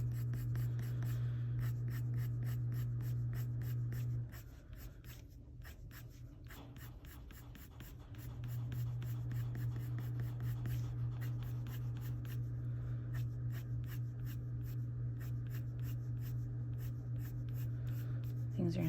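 Colored pencils scratch across paper in quick, steady strokes, close and fairly quiet, with a short pause midway before the rapid coloring resumes.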